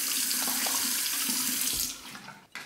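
Water runs steadily from a bathroom tap into a sink to warm the face before a wet shave, a close, continuous hiss that fades and stops near the end.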